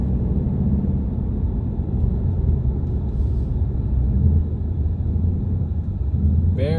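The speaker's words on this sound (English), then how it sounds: "Automatic downshift with rev matching." A 2020 Ford Mustang GT Premium V8 blips its throttle for an automatic rev-matched downshift on the highway, a steady low engine rumble swelling under continuous road and wind noise inside the cabin.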